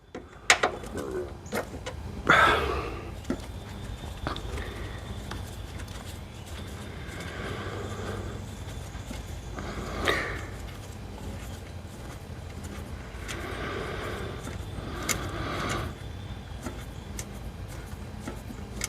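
Socket wrench loosening the two battery bolts on a 2019 Harley-Davidson Road King, heard as scattered metallic ratchet clicks and taps at close range in a quiet garage.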